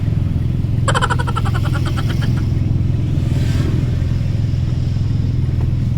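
A motorized tricycle engine runs steadily with a close, continuous low rumble, and a short clattering burst rises over it early on.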